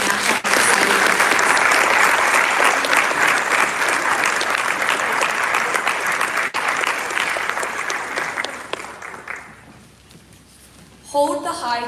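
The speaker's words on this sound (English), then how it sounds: "a round of applause for all your new inducted National Honor Society members." Loud sustained applause from a crowd at a National Honor Society induction ceremony that gradually fades out, followed by a voice beginning to speak.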